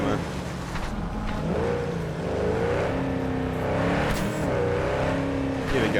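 Car engine in the video game Cyberpunk 2077 hums steadily with rising and falling revs, close and continuous throughout, under someone talking.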